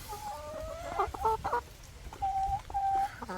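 Farm hens cluck and squawk close by, a few sharp bursts followed by two longer drawn-out calls, over a low ambient rumble.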